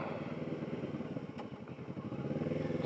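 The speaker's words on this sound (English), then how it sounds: "just riding around on my Ninja in some small ass town." Kawasaki Ninja motorcycle being ridden through a small town, its engine a steady close-up pulsing drone with a slight rise in revs near the end, no talking.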